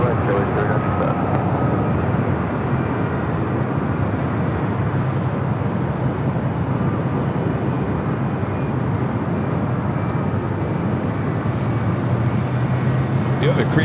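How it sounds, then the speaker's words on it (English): A Korean Air Cargo Boeing 777 freighter passes overhead near Los Angeles airport, its engines a loud, steady broadband roar that holds throughout with a low rumble underneath. "You have a Korean Air Cargo 777 freighter flying above us here at the DH Hotel."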